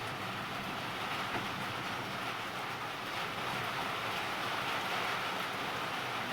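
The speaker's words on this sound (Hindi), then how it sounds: "अचानक इतनी जोर से बारिश आई।" Heavy rain pouring down in a village, a dense, even hiss of steady downpour filling the whole clip with no voices.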